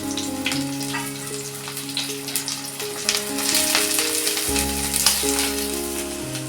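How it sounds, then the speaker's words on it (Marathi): Onion and green chili frying in hot oil for soybean burji, giving a steady, loud sizzle that crackles on without pause, no talking over it. "हे बघा तेल गरम झालेलं आहे याच्यामध्ये मी कांदा घालते आणि मिरची घालते"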